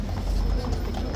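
A horse's hooves clip-clop steadily on a hard surface at a busy outdoor spot, the soft knocks partly buried in a constant wash of crowd and ambient noise.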